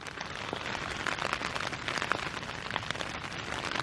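Rain drumming on a tent pitched outdoors in Ireland, a constant close patter with a few sharper individual drops standing out, and nobody speaking.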